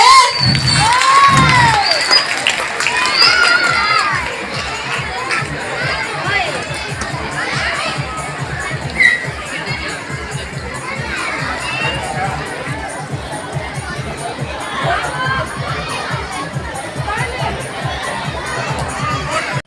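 Children in a school audience at an annual arts festival cheer and shout as a crowd, loudest in the opening seconds, then settle into steady clapping and chatter.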